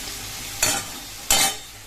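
Taro pieces fry in hot oil in a pan, a soft steady sizzle punctuated by two short, louder bursts of spattering as the pieces are turned.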